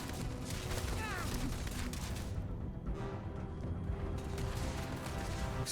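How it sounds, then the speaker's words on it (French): An explosion in the space video game Starfield gives a loud, dense burst of gunfire-like crackle and booming noise that fills the scene, with a voice talking briefly over the din. "Explosion."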